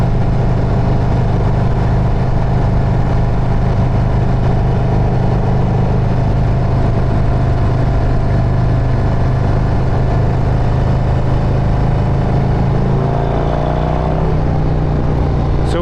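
A Harley-Davidson motorcycle fitted with a Stage III 122 kit cruises in third gear at about 3,000 RPM on back roads, giving a steady, loud, close engine drone throughout, with a brief rise in revs near the end.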